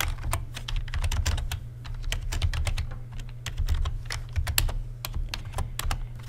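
Steady, rapid typing on a computer keyboard while writing code, with dense clattering keystrokes throughout over a low constant hum.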